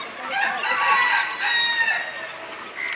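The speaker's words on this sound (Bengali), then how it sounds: "এটা হচ্ছে সোনালী মোরগ" A Sonali rooster crowing in a long, strained call, with clucking hens mixed in, close and fairly loud, no talking.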